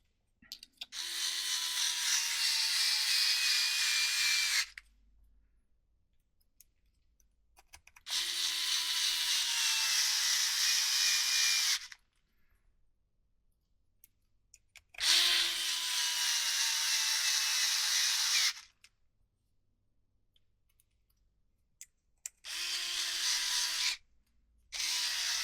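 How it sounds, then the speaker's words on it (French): An electric screwdriver drives screws into plastic while a GENIUS GTC8E 2025 bike's rear end is assembled, running in four loud, close bursts of several seconds each, separated by silent pauses. "Alors, tournevis électrique, c'est bien, mais dans le plastique"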